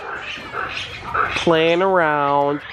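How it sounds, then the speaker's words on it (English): Red ruffed lemurs in a safari park enclosure give a loud, drawn-out wavering screech, with softer chatter and a voice beforehand. "You can hear the other lemurs screeching in the background."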